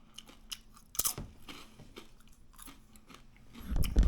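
Close crunching of a crispy air-fried mesquite barbecue potato chip being bitten and chewed, a few sharp crackly bites followed by softer chewing, with no talking.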